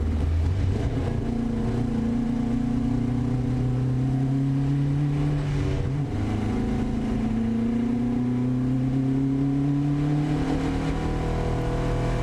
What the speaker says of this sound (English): I became aware of more and more noise coming from the rear differential